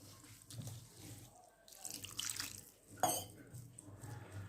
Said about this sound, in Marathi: भाजी आपण 1 ते 2 पाण्याने स्वच्छ धुवून घेऊयात आणि निथळायला ठेवूयात तोपर्यंत।